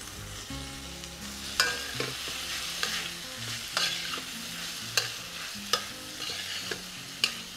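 Tomatoes are stirred into a frying prawn curry masala, with a soft sizzle of oil under repeated sharp scrapes and knocks of a spoon against the pan, while music plays quietly behind.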